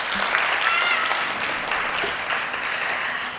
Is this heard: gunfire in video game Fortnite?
no